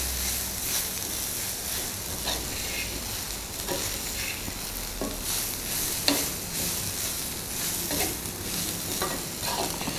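Chillies being stirred in a hot oiled pan, a steady sizzle and frying crackle with repeated scraping stirs throughout, close and continuous with no talking.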